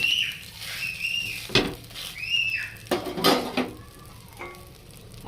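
A daliya chilla is flipped in a pan, with a soft sizzle under sharp clinks and scrapes of a spatula against metal and a few short knocks, all close up and with no talking.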